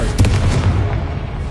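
A Confringo blasting spell explodes in Hogwarts Legacy, a loud, dense boom with a low rumbling body that fills the whole moment and then slowly decays.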